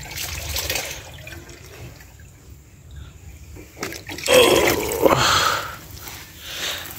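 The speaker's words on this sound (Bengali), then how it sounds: "এখানে একটু পানি দিয়ে দিই।" Water poured onto a plant in a garden: intermittent splashing and trickling, loudest in a burst around the middle and again at the end, with quiet pauses between and no talking.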